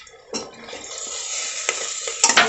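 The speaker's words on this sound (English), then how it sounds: "so now we will add tomatoes in it" Tomatoes go into a pan of soft sautéed onions and get stirred, a soft hiss of cooking under scraping spoon strokes and a few light metallic clinks.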